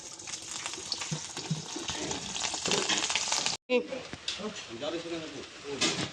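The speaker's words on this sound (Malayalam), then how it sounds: "വല്യമ്മ നെയ്യപ്പ് ഒഴിക്കാണ് ഗായ്സ്" Neyyappam batter poured into hot oil, frying with a steady broadband sizzle and bubbling throughout, briefly cut off midway, while people talk over it nearby.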